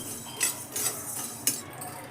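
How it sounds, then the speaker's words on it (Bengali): A metal spoon scrapes and clinks against a pan while dry-roasting coriander and cumin, with a few sharp stirring strokes over a low background hiss. "ধনে আর জিরেটাকে আমি শুকনো করে ভালো করে প্রথমে নেড়ে নেব"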